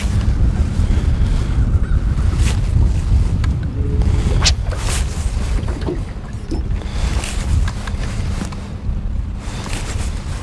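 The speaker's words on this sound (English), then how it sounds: "Ooh, that wind's picking up." Gusty wind sweeps loudly across the water during a light rain, roaring and buffeting the microphone in continuous waves with scattered sharper gusts.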